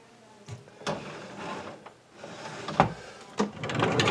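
A drawer of an old chest of drawers kept under model railroad benchwork slides with soft scraping and several dull thumps and clunks, close and fairly quiet.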